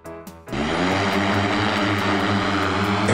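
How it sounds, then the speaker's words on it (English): The Airbus CityAirbus, a four-seat electric eVTOL air taxi with eight electric rotors, flies with a loud, steady, whirring rotor drone that starts abruptly after a short quieter moment and holds constant throughout. "CityAirbus is a four-seat electric air taxi developed by Airbus in Germany."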